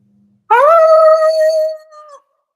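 A single drawn-out wolf howl imitated by human voices, rising sharply then holding a steady wavering pitch for about a second and a half before trailing off, loud and close.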